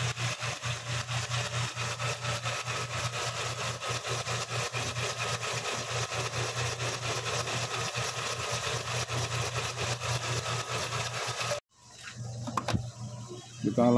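A Nissan Terrano engine idling at about 800 RPM gives a steady, even low hum with a fast regular pulse for most of the clip, then cuts abruptly to quieter background near the end.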